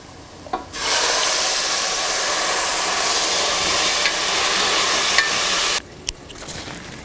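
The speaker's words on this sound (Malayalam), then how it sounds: "നമുക്ക് ഇതിലോട്ട് ബാക്കിയുള്ള ആ ഗ്രേവി ഒഴിച്ചു കൊടുക്കാം" A sudden loud, steady hiss rises as gravy is poured into sizzling duck roast masala in a hot pan, holding for about five seconds before cutting off sharply, with a few faint clinks around it.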